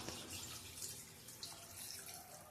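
A steady, hissing stream of water pours continuously into a cooking pot of spicy chicken gravy, with a faint bubbling texture throughout and no talking.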